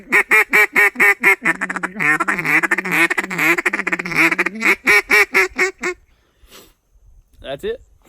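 A duck call sounds a fast, rolling series of quacking notes in a steady run, then a few scattered quacks after a brief pause.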